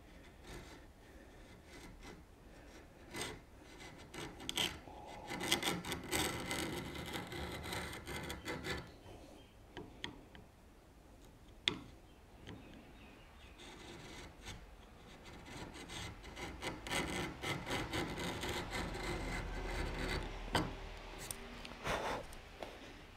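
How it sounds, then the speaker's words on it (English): Hand tool rasping a light chamfer along the front edge of a wooden workbench shelf, steady scraping strokes in bursts with short pauses, close and moderately loud. "what I want to do is I just want to put a very light chamfer along this front edge"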